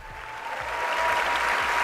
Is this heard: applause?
yes